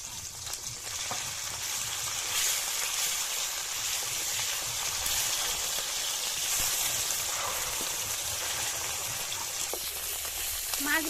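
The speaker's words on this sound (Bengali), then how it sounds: "মাছ ভাজা হয়ে গিয়েছে," Bata fish frying in oil in a pan, a continuous close sizzle and crackle that holds steady for about eleven seconds with no voices.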